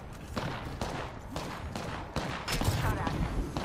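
Gunfire in a ranked match of the battle royale shooter Apex Legends, a rapid burst of fairly loud shots at a steady pace over in-game voices and ambient noise.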